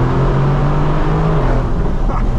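A Mercedes-AMG sports car engine revs steadily at high pitch in third gear around 4,000 rpm, heard from inside the cabin, loud and continuous with a rising whine near the end.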